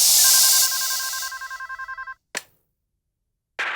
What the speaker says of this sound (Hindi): मुझे प्रमोद का फोन आया